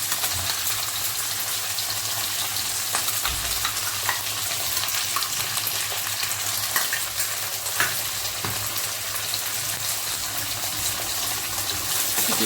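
Fish with ground masala paste frying in a little oil for an Assamese fish curry, a dense, steady sizzle that holds close and loud throughout with faint occasional clinks.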